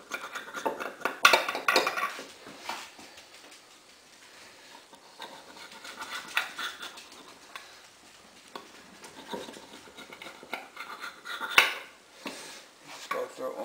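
A knife scoring a chocolate pudding cake in a metal pan, with intermittent scraping and clinking against the pan at close range and quiet handling sounds between the cuts.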